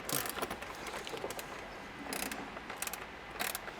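A ratchet wrench tightening hose clamps on a TRD intake of a 2016-2023 Toyota Tacoma, quiet bursts of rapid clicking separated by short pauses, close by with no speech.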